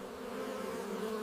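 Bees hum steadily among blueberry plants on a cultivated farm, a continuous close buzzing drone with no voices.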